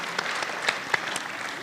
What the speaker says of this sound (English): please give a big applause to our distinguished speakers